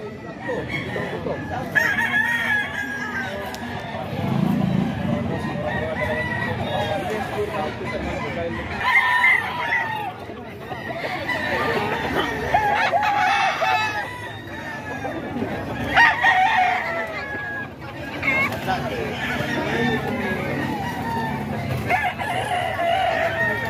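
A Hiraw gamefowl rooster crows loudly and repeatedly nearby, with clucks between the calls and people chatting in the background throughout.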